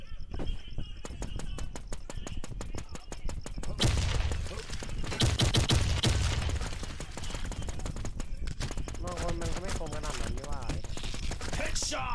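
Rapid bursts of gunfire from the video game GravityZ rattle in quick strings, clustered and sharp, with game effects and a voice mixed in at times.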